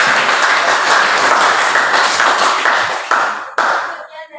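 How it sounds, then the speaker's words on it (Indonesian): A classroom group claps for group 3 after their teaching presentation, a dense steady wash of many hands that holds loud for about three seconds, then thins into scattered claps and fades out. "Kita beri aplaus untuk kelompok 3"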